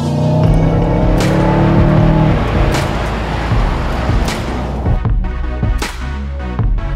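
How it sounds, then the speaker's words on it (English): A 2019 Mercedes-Benz CLA accelerating hard, its engine note loud and close, climbing in pitch through a gear before dropping back, with a couple of sharp shift clicks and no talking. "you can just plant your foot in any gear and it just squats and goes"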